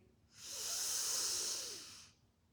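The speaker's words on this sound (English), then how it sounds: "Breathe." A single long, steady breath of air during a yoga breathing exercise, close and breathy, swelling in and fading out over about two seconds in a quiet room.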